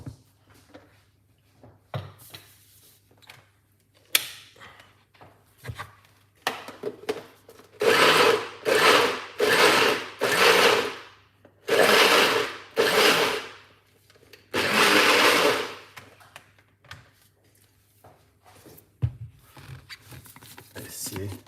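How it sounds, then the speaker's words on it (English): Short repeated bursts from a blender mixing fruit cake ingredients for a Jamaican black rum fruit cake, loud pulses of about a second each separated by quieter gaps, with a voice speaking between them. "Put it into your blender."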